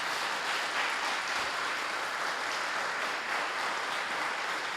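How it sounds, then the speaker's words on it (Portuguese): A church congregation applauds, a dense, steady crowd clapping that fills the space evenly for several seconds, without speech over it. "Você pode aplaudir ao Senhor Jesus?"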